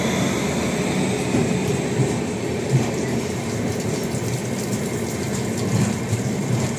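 Cheran Superfast Express train pulling into Chennai Central station: a steady, loud broadband rumble of rolling coaches with a faint metallic ring, continuous throughout without talk.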